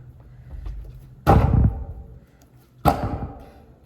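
Two sharp metallic impacts about a second and a half apart as a bicycle is drop-tested, each with a brief clattering rattle from a slightly loose part that fades, close by with faint background noise.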